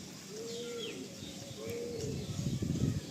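Giribaj and Madrasi pigeons in a loft coo low and steady, with faint chirps and some rustling that grows busier toward the end.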